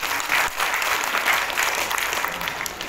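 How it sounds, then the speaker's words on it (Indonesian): Steady applause from a crowd at an Indonesian education event opening, dense clapping filling the room at close range without a break, no voices heard. "Tepuk tangan dulu."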